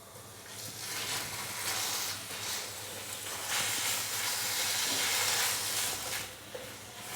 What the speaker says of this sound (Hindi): तो चिकन का कीमा हम इसके अंदर डाल देंगे।